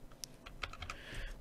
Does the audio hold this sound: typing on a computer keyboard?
yes